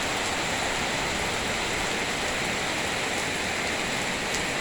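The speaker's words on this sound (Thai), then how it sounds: "บรรยากาศฝนตกนะคะ" Rain falls steadily all day at a rural home, a dense, even hiss of drops with no breaks and no voices.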